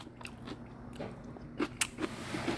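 Close, crisp bites and chewing of sour kimchi at a Korean restaurant table, a few crunchy bursts spaced over a couple of seconds with soft mouth sounds between them.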